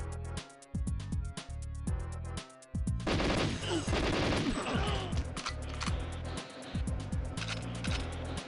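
Rapid bursts of automatic gunfire from turrets and enemy guards in GoldenEye 007 on the N64, sharp repeated cracks in steady runs with brief gaps, then a denser, louder stretch of overlapping shots and impacts.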